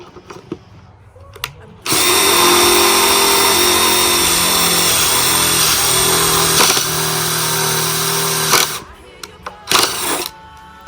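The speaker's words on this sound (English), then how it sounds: "Begin to drill your hole." A power drill whines steadily for several seconds as it bores through a wooden plank, then stops, followed by a few short clatters and bursts.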